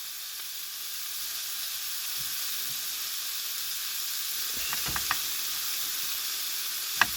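Butter sizzles and fries in a pan at a camp inside a vehicle, a soft continuous hiss with a few light clicks and taps toward the end.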